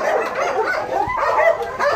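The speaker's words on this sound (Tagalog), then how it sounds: "Napakalaking aso. Mga Labrador nila." Large Labrador dogs bark and yelp loudly at close range, overlapping calls in a busy kennel setting with a steady, dense chorus of barks.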